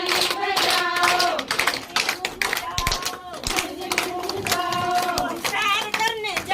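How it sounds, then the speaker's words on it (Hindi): Children clapping hands in time while singing a Hindi action song at a village childcare program, sharp claps scattered through loud group singing. "ताली बजाओ, ताली बजाओ"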